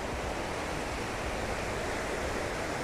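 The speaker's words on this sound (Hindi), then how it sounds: "देखिए मैं बिल्कुल गंगा जी के पास, आप देख सकते हैं बहाव कितना तेज़ है" Fast-flowing Ganga river at Kaudiyala near Rishikesh, a steady broadband rush of moving water that stays loud and even throughout, with no voices.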